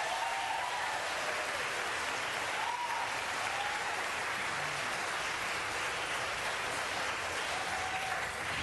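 Audience applause at a Los Angeles city council meeting on banning bull hooks for circus elephants, a sustained broad wash of clapping that holds evenly throughout, with faint voices or whistles over it.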